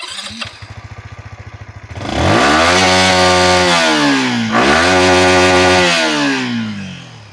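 A Pulsar NS200 or Yamaha MT15 motorcycle idles with a steady rapid putter, then revs hard into a loud, sustained engine note that rises, dips briefly and climbs again before easing off, close by with no talking.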